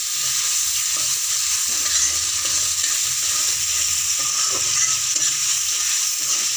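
Onions sizzling and frying in a pan with salt, a steady close hiss with occasional stirring scrapes running throughout, with no talking.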